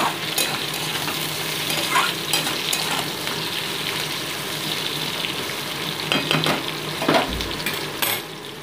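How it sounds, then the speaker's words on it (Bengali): Potato pieces fry in a pan alongside already-fried bitter gourd, giving a steady close sizzle with occasional stirring scrapes and clinks, and no one speaks. "এছাড়াও আলুটাকে ভালো করে ভেজে নিচ্ছি।"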